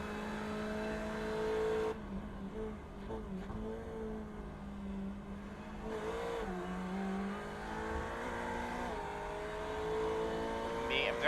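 A Ferrari 488 race car at Sebring International Raceway on cold tyres, its engine holding a steady droning note that rises and falls with throttle changes while someone talks over it.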